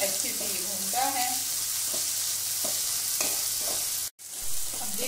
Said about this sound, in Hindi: प्याज लहसुन भूनते टाइम कभी हम फ्लेम को स्लो कर लेंगे, कभी मीडियम करके भूनेंगे